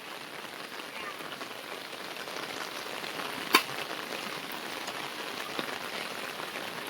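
Heavy monsoon rain in Konkan pours in a steady, even hiss on surrounding surfaces, with one sharp tap cutting through midway.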